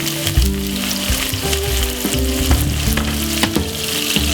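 Chopped white onions and spring onion fry in olive oil over medium heat, a loud continuous sizzle with stirring scrapes and a low steady hum underneath.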